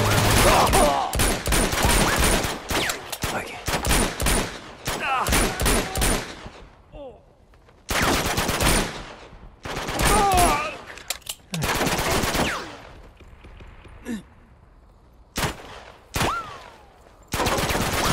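Rapid bursts of gunfire from Uncharted 2 as shots are aimed at a car's tires, loud overlapping volleys and single cracks repeating across the stretch, separated by brief quieter gaps.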